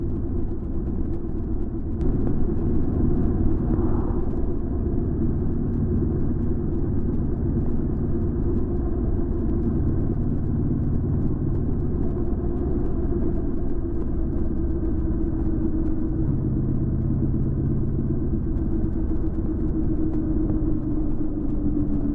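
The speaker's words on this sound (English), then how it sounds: "the 1100 shifts to third at 30 miles per hour, back up to fourth at 36, then quickly to fifth at 38 miles per hour" A 1100 motorcycle with a dual-clutch transmission accelerates steadily, its engine a continuous low rumble that climbs through upshifts from third to fourth to fifth, heard close throughout with no talking.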